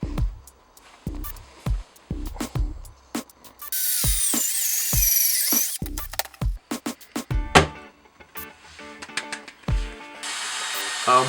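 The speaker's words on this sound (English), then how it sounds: "To keep the roof in place, I'm going to drill some holes here" A power drill bores holes into the wooden roof of a homemade birdfeeder, with a sustained high whine in one burst and a few shorter runs, among sharp knocks and handling clatter close up.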